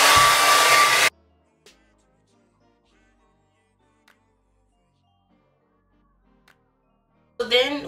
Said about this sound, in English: Blow dry some more.